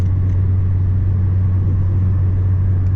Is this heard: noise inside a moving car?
yes